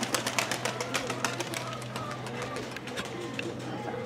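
Pigeons in a village loft give soft cooing and fluttering over a rapid patter of wingbeats that fades toward the end, while people talk quietly nearby.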